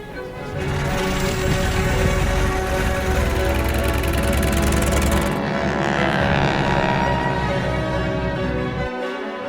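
Remote-controlled model plane called Black Magic in flight, a loud steady buzzing engine drone that runs continuously and shifts in tone partway through as the plane passes.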